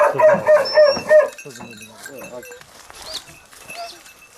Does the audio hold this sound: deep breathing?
no